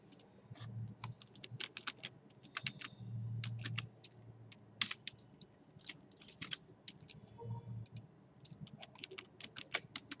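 Typing on a computer keyboard while filling in the name fields of a user registration form, heard as irregular bursts of sharp, close key clicks with short pauses between them.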